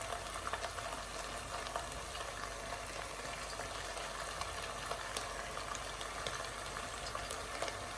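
Beef pieces fry in hot oil in a pan, giving a steady, dense sizzle with scattered tiny pops. The sound is continuous and fairly quiet, heard alone without talk.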